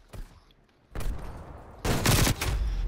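Rifle fire in Call of Duty: Cold War, two heavy booming shots about a second apart with a third blast following, loud and close with a rumbling tail.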